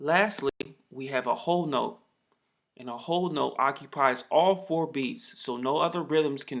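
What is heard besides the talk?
No everyday noise stands out behind the speech.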